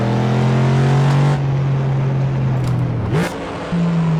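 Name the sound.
Ford Mustang engine during a lap in a racing game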